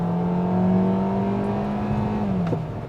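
A Hyundai Avante engine revs under acceleration in normal drive mode, a loud sustained drone that holds its pitch for about two seconds, then drops as the revs fall, heard from inside the car.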